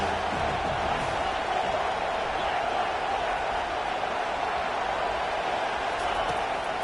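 Stadium crowd at a college football game between Nebraska and USC, a steady, loud roar of cheering that holds at an even level throughout, with a commentator talking over it.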